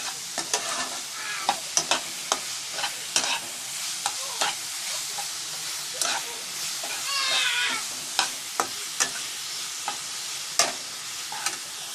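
Vegetables cook in masala for chicken Maggi noodles, a steady sizzle under regular sharp scraping stirs. A cat meows briefly partway through. No one talks.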